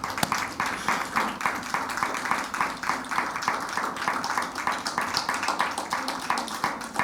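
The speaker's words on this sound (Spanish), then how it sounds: "Alguien dile un aplauso fuerte al Señor" A church congregation breaks into sustained applause for several seconds, many hands clapping densely and steadily with a few voices mixed in.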